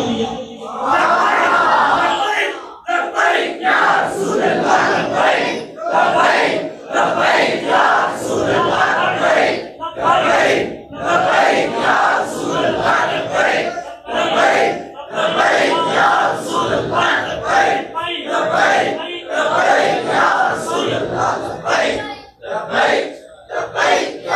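A large crowd at a religious gathering chants slogans in loud, repeated bursts, a wall of many voices rising together in a rhythmic call-and-response pattern across the whole stretch.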